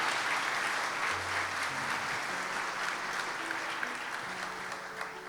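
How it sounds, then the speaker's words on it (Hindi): A church congregation at a Christmas service applauds, with dense, continuous clapping spread across the room and a faint hum of voices and music underneath. "जोरदार तालियां खुदावंद यीशु मसीह के लिए"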